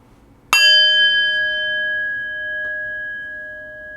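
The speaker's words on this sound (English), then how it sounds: "in just a moment I will ring the bell, ending our first round of meditation" A meditation bell is struck once to close a round of sitting meditation, giving a bright metallic strike followed by a long, clear, slowly fading ring with steady overtones, alone in a quiet room.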